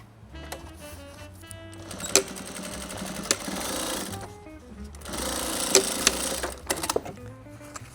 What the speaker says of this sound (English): And then you backtrack, backstitch, and go back over the seam.